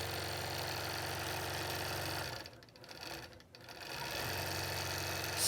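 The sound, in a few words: Statler computerized quilting machine stitching a piano key border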